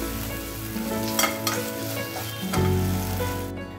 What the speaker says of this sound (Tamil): அதுக்கப்புறம் மீதி இருக்க வெங்காயம் அதையும் சேர்த்துட்டு நம்ம நல்லா வதக்கிக்கலாம்